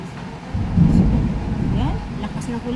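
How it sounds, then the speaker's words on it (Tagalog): Heavy rain pours down at a home in the Philippines with a deep thunder rumble swelling through it, a loud steady wash of noise that stays dense for the whole stretch. "So, yan, lakas ng ulan guys, di ba?"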